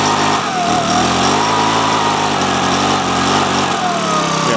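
A Makita BHX2500 four-stroke engine on half choke holds a loud, close, continuous high-pitched drone, its pitch wavering slightly as it struggles to pick up, with no voices over it.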